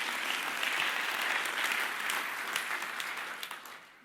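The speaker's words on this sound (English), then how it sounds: "How about a big round of applause for the Wells Group?" An audience at a corporate forecast event gives dense, steady applause that fills the room and tapers off slightly toward the end.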